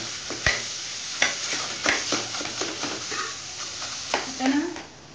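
Peeled mangoes dropped into a hot tempering of turmeric and asafoetida, giving a soft sizzle with scattered stirring clatters, close and moderately quiet.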